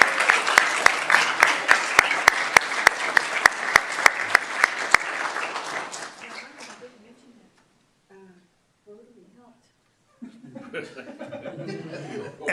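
A crowd at a city council meeting applauds loudly for several seconds with some laughter, the clapping fading out, followed by quiet and then murmuring voices.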